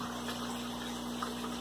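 Aquaponics aquarium water pump running steadily, a continuous low hum with a soft trickle of moving water, close and even throughout.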